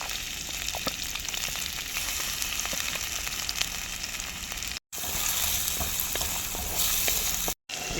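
Ginger and garlic pieces frying in hot oil in a pan for chicken manchurian, a loud, continuous sizzle with scattered crackles and pops, cut by two brief silent gaps.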